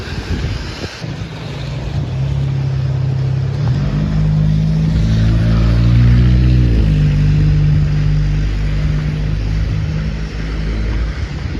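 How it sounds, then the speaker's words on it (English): A Porsche Cayenne drives past on a wet, rainy street, its tyre hiss and engine swelling as it approaches and fading away, with wind buffeting the microphone. "unless you own a car, like this guy, the Porsche Cayenne"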